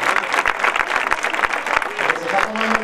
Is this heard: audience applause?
yes